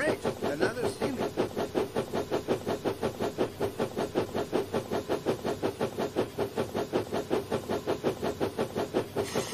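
A British Railways steam locomotive of 1963 chuffs steadily at close range, with rhythmic exhaust beats repeating about three times per second over a continuous hiss, no talking.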